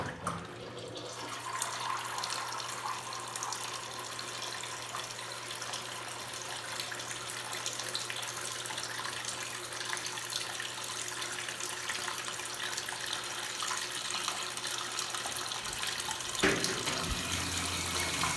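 Water pouring steadily into a washing machine as it fills, a continuous close rushing stream with a low steady hum underneath, holding at an even level with no talking.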